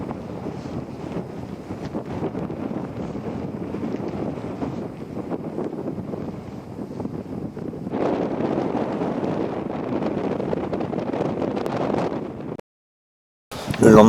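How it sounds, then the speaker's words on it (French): Wind sweeps without pause across the broad moraine plain at the Chinese Everest base camp, roaring hard against the microphone and gusting stronger partway through before cutting off abruptly. "Avec une grande plaine morénique, balayée par le vent,"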